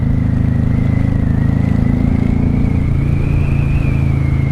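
A 1995 Honda Shadow VLX 600 V-twin motorcycle engine riding in second gear, a loud, close, steady low rumble holding an even pitch, with no talk over it.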